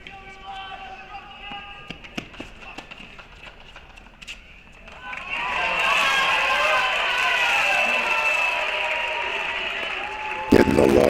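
A crowd at an NCAA college tennis championship match breaks into loud, sustained applause and cheering after a quiet stretch of scattered claps and ball sounds. Commentators talk throughout.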